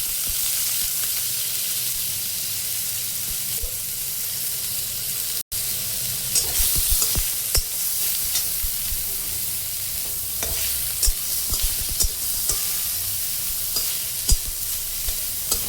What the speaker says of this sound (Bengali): পেঁয়াজটা আমি বাদামি করে ভেজে নিয়েছি।